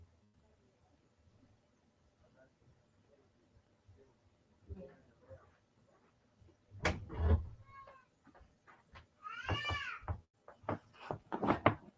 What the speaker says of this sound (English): I know, you're a cute kitty.